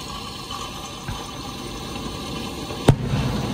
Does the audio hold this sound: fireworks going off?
yes